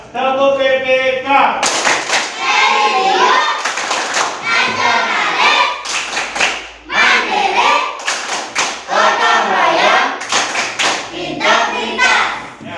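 A class of schoolchildren standing in a classroom performs the PPK clap, beating hands in sharp rhythmic bursts while chanting along together in loud, close voices.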